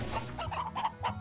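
Chickens cluck in the farming video game Slime Rancher, several short nasal clucks in quick uneven succession over a low background hum.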